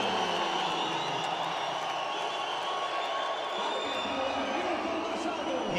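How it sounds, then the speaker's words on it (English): A large arena crowd at a fight event roars and cheers continuously, a dense sustained wash of voices and whoops with no clear breaks. "You hear that crowd, folks?"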